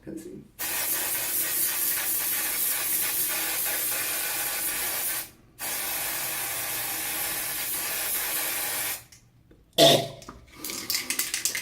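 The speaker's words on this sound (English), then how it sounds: "Now I think I'm going to try using some of the hairspray." Hairspray hisses from an aerosol can in two long, close bursts onto a beard, separated by a brief pause, followed by a short shuffle and rustle.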